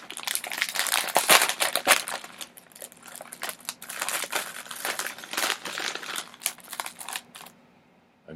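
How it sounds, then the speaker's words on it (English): A tarot deck package is unwrapped up close: continuous crinkling and crackling of wrapping and plastic, with irregular louder rustles and tears for several seconds, then a quieter end. "unwrapping."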